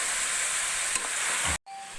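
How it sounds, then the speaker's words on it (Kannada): Goat head and leg pieces fry in hot tempering oil with a steady loud sizzle and hiss as they are stirred, then the sizzling cuts off abruptly near the end. "ಚೆನ್ನಾಗಿ ಒಗ್ಗರಣೆಲಿ ಎಲ್ಲ ಮಿಕ್ಸ್ ಮಾಡ್ಕೊತಾ ಇದ್ದೀವಿ."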